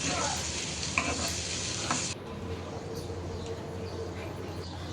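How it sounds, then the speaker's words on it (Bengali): Spiced tomatoes with potatoes and onions fry in a pan, giving a steady, close sizzle that is loudest in the first two seconds and then settles into a softer, continuous crackle. "এখন মশলা দিয়ে টমেটো দিয়ে একটু কষিয়ে নিয়ে এরপর মাছ দিয়ে দিব"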